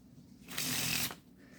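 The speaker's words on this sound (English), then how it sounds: "this is what a table Faro looks like" A deck of Cherry Casino playing cards given a table faro shuffle, one quick crisp riffle of about half a second, close and loud, with no voices.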